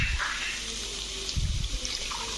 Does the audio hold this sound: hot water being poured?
yes